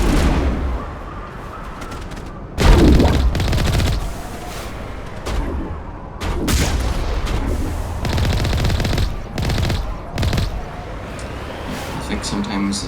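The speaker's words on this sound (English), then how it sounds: "these guys are shooting at us" Enemy gunfire crackles through a Mass Effect Legendary Edition firefight on PC, with bursts of shots and louder volleys coming and going while someone talks over the action.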